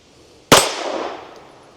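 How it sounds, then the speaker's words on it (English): A single sharp, loud gunshot from an S&W Bodyguard 2.0 .380 pistol firing 56 grain Norma NXD ammunition into gel, with a short ringing decay and no other sounds after it. "Let's just shoot this 56 grainer."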